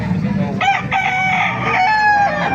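A one-year-old malawayan rooster at a market crows loudly and close by, one drawn-out, wavering call that fills most of the moment over a low background murmur.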